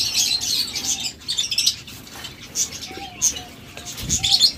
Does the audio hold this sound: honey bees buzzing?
no